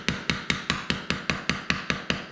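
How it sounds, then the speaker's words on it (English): Steady, evenly spaced taps from a 12-ounce ball peen hammer working along a concrete control joint filled with epoxy, about ten sharp close strikes in quick rhythm with no talk. "I'm just tapping along using a 12-ounce ball peen hammer"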